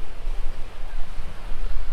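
Ocean surf on the North Shore of Oahu in the Pacific, a dense continuous wash of breaking waves and roaring water with no voices.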